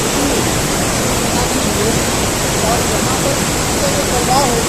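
Mandakini Falls, a waterfall, pours down from above in a steady, loud broadband rush of falling water that holds unchanged throughout without pause.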